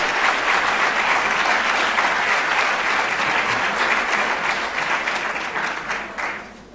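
An audience at a religious conference breaks into loud, sustained applause that fills the room, a dense steady clapping that eases off toward the end.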